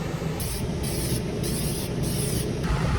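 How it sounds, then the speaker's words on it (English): Spray painting inside a homemade paint booth while remodeling a toy hauler: four bursts of loud hissing spray, each roughly half a second, separated by short gaps over a steady background rumble. "so I will be spraying now."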